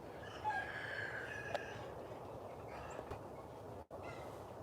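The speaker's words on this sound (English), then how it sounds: "There's like some kind of disturbance by these chickens." Chickens cluck and squawk in a busy, agitated flurry outdoors, with a brief crow-like call rising early on over steady background noise.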